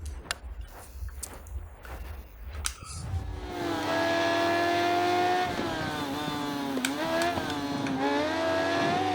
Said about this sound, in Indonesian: Akhirnya gue bisa bawa Moge ini di game ini dengan suara-suaranya